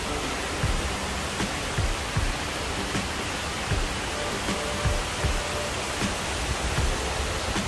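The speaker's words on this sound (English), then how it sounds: "Right around the waterfall," Waterfall at the 9/11 memorial at Ground Zero, the World Trade Center site in New York: a steady, loud broadband rush of falling water that fills the scene, with faint low thumps recurring beneath it.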